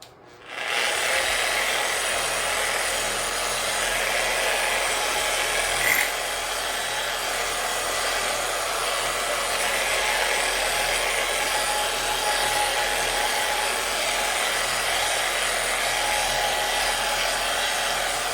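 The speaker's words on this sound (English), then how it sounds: "And we have our final buffing pad. Low speed for your wax." A power buffer with a clean buffing pad runs at low speed, applying wax over fresh lacquer on a DIY guitar kit body, a steady whirring rub sustained throughout after a brief start-up.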